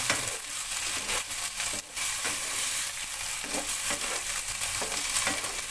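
Carrots and potatoes sizzle steadily as they fry in a pan, with stirring scrapes breaking in at intervals; the sound is close and continuous, with no talking.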